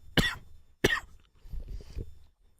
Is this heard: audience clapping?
no